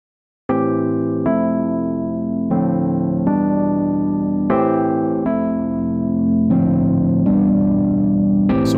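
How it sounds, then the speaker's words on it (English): Distorted keyboard chords from EZKeys software played one after another in a steady, even rhythm, buzzy and saturated, with no voices. "So we have a little bit of distortion there."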